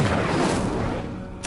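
Incendio fire spell cast in Hogwarts Legacy, a dense roaring burst of flame that swells loudly, then thins before a sharp flare at the end.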